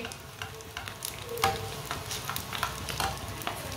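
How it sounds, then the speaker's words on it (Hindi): Eggs fry in oil in a pan for an egg and besan (gram flour) recipe, with a steady soft sizzle broken by a few sharper pops and stirring clinks, close and fairly quiet. "अब अंडू को 2 मिनट के लिए पकने देते हैं, बाद में इसे उल्टाएंगे।"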